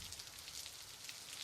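Heavy rain pours down outdoors in a steady, unbroken hiss that stays even and dense throughout, with no voices over it.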